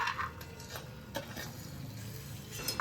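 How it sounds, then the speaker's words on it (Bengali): Fried lentil dumplings are lifted from hot oil into a bowl, giving a few light utensil clinks and scrapes over a faint, continuous frying sizzle, close and fairly quiet. "এবার অন্য একটি বাটির মধ্যে আমরা এই বড়িগুলো তুলে রাখছি।"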